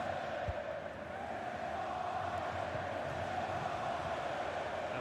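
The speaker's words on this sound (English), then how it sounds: "Just listen to the crowd, Derek, urging their team on." A stadium crowd roars continuously in a football video game, a dense, steady wall of cheering and chanting that holds at an even level throughout.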